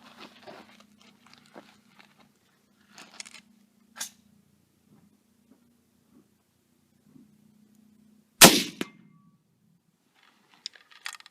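A single sharp, loud crack from a Mosin sniper rifle firing surplus 7.62x54r FMJ bursts out of an otherwise quiet stretch of faint clicks and handling noises.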